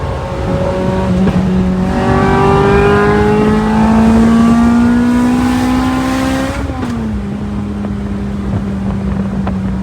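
A tuned Lotus Elise with a 2ZZ-GE engine on a Stage 1 ECU tune, accelerating hard through a steadily climbing engine note that shifts down at a gear change, loud and close, with wind noise.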